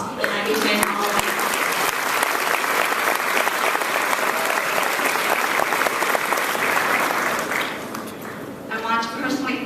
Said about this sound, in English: really deserves a round of applause